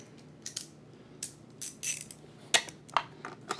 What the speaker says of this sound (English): throw our ratchet back in there. And make sure it's snug up, nice and snug